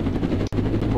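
Steady, loud rotor and engine drone of a helicopter in the Roblox game Jailbreak fills the whole moment, with a brief dropout midway and a voice talking over it.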